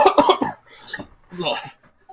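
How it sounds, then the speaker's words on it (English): A person coughs in a quick burst of rough, throaty hacks, close and loud, then breaks into strained vocal sounds that mix with the coughing. "Was the coughing character or was that actually something that happened?"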